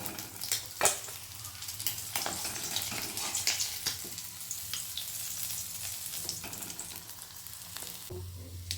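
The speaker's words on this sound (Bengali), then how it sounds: "পেট মাছ ভাজা হয়ে গেছে, এবার তুলে নেব" Pomfret fish fry in a pan, a soft, steady sizzle with intermittent sharper crackles and clatters as the fish are handled, fairly faint overall.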